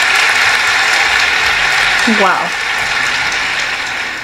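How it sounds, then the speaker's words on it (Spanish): A comedy club audience in Mexicali applauds steadily, with a thick, even clatter of many hands. A voice briefly exclaims over it midway. "Fuerte el aplauso,"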